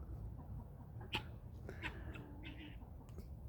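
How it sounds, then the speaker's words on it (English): Outdoors, a backyard chicken lets out a few faint, scattered clucks and calls over low ambient rumble, with no one speaking. "But we got this chicken. And he seems to be happy."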